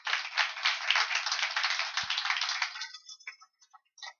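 Applause from a church congregation, dense steady clapping for about three seconds that thins out into scattered claps before fading.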